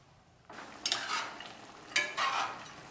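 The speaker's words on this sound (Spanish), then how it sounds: "Y lo voy a revolver" A spoon stirs pork ribs in red chile sauce in a cooking pot, making two close, soft scraping sweeps about a second apart with a faint simmering sizzle beneath.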